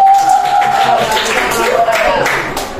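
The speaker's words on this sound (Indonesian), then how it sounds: "Luar biasa, tepuk tangan" Children in a fifth-grade classroom clap for a student group, a dense steady patter of applause that runs throughout with voices mixed in.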